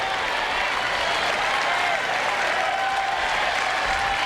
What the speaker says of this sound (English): Listen to this crowd for Henman